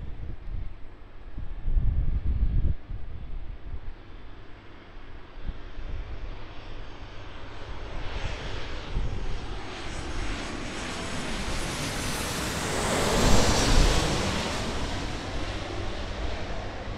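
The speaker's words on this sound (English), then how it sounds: "Boeing 737" Boeing 737 airliner passing at Sydney Airport: a broad jet roar that swells steadily as the plane approaches, peaks loud and close, then fades slightly, with some wind noise on the microphone.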